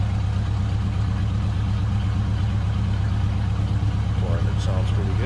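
A 1969 Pontiac GTO Judge 400 V8 idles with a deep, lumpy, rhythmic rumble through its exhaust, steady and loud throughout, heard from the rear, with a faint brief squeak near the end.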